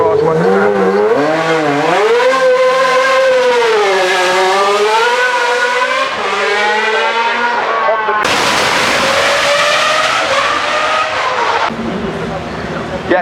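A Formula 1 car at the Goodwood Festival of Speed, its high-pitched engine rising and falling through gear changes as it runs past, loud and sustained, with a sharp cut in tone partway through.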